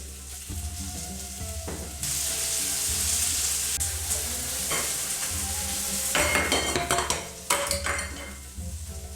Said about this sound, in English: Make sure your griddle is really hot. Drizzle some oil and begin to cook.